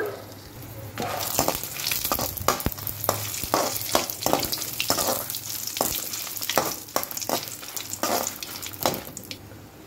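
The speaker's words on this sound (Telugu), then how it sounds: "దానికి ఒక టేబుల్ స్పూన్ ఆయిల్ వేసాను. తగినన్ని మిరపకాయలు తీసుకున్నాను. దోరగా వేయించుకోవాలి, మాడకుండా." Red chillies frying in a tablespoon of oil for Andhra dhaniyala karam make a close, steady sizzle, with repeated scraping and clinking as they are stirred in the pan.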